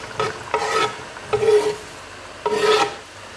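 Rosemary and other herbs are stirred into a sauce in a pan, in three or four close, rasping scrapes of spoon against pan, each lasting about half a second with short gaps between.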